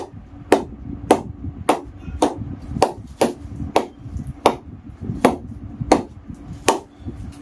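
Evenly spaced sharp knocks as an old, well-used cricket ball strikes a cricket bat, about a dozen crisp wooden taps at a steady rhythm, close and clear, no talk.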